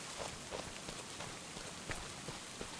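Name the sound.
rain falling in the video game Farming Simulator 25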